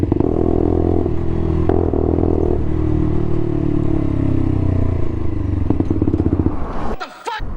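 A motorcycle engine runs loud and close with a rough, clattering rumble that slowly drops in pitch, then abruptly cuts out near the end, leaving a brief scrape and near silence.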